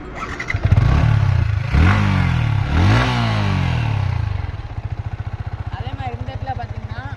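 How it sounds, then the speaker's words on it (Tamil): A 2020–2021 Yamaha R15 V3 motorcycle starts up, its engine revving in loud rising bursts before settling into a steady, rhythmic idle close by. "அதே மாதிரி நான் உங்களுக்கு வண்டியை ஸ்டார்ட் பண்ணி காமிக்கிறேன் பாருங்க"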